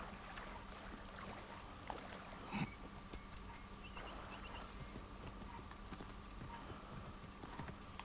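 Horse hooves clip-clop faintly in Assassin's Creed Origins, soft scattered steps under a low ambient game soundscape with a water-like wash, no speech.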